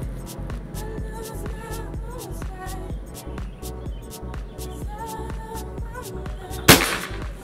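A single sharp pop from a PCP hunting air rifle cracks out near the end over continuous rhythmic background music with ticking beats.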